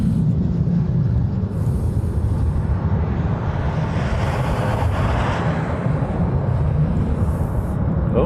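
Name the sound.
F-22 fighter jets flying past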